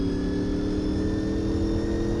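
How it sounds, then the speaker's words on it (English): A C4 Corvette's V8 engine in Gran Turismo 4 holds a steady, loud, droning rev, its buzzy tone humming continuously and close throughout. "the Gran Turismo 4 randomizer has a few engine sounds modified, and this is one of them"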